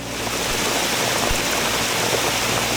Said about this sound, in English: It's raining so hard it looks misty.